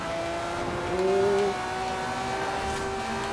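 Engines of a Ferrari and other race cars rev and accelerate in the Forza Horizon 4 racing game. The tone rises and falls with gear changes, mid-distance and fairly quiet, with no voices.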